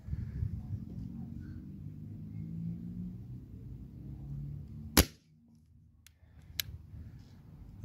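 A single sharp crack from a sub-12 ft-lb air rifle firing slugs at a 100-metre target outdoors, breaking through a steady low rumble of wind and background noise, followed by a couple of faint distant ticks and clicks.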